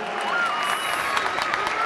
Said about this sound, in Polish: podziwiamy gorące brawa, cały stadion bije